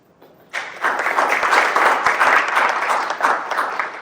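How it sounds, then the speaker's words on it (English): A university career-event audience breaks into applause after a short quiet moment, the clapping swelling quickly and staying dense and close before easing slightly at the end. "that deserves a round of applause"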